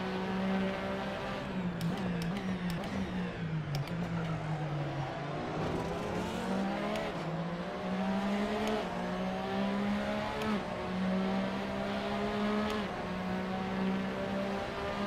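A Porsche 911 RSR racing car in the Assetto Corsa video game roars steadily at high revs, its engine pitch dipping on downshifts and climbing again through the gears, loud and continuous.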